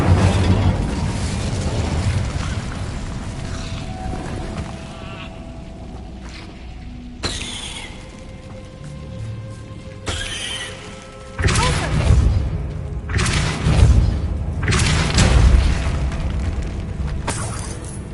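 Incendio fire spells burst in Hogwarts Legacy, with booming, whooshing blasts over a busy game soundscape, several abrupt loud hits starting fresh layers of roaring noise.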